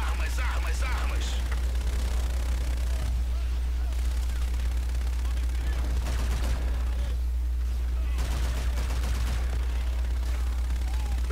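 Sustained bursts of automatic gunfire and explosive shots in a Call of Duty: Infinite Warfare space-war campaign battle, loud and dense throughout, with brief radio-style voices mixed in.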